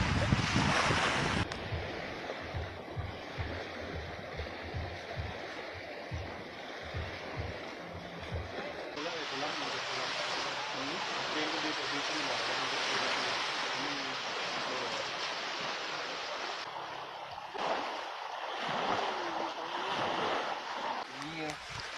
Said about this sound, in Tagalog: Naririnig nyo naman ang hampas ng dagat.